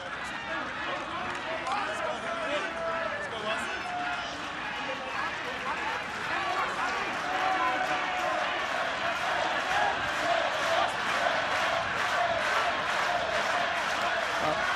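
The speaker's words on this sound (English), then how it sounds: "they're certainly making plenty of noise" Rugby crowd at a Zebre vs Ulster match, a steady broad roar of voices and cheering filling the whole stretch, swelling slightly in the second half, with commentary running over it.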